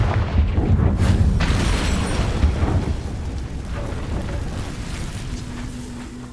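A Confringo spell explodes in Hogwarts Legacy: a loud, deep boom bursts at the start and rolls into a long, slowly fading rumble, with a faint steady tone near the end.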